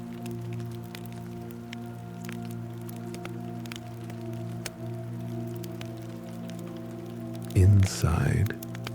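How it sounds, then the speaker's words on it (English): Rain falling on a house in the forest, a steady soft patter and hiss under a low hum, with a brief louder burst of splashing near the end. "listening to the rain."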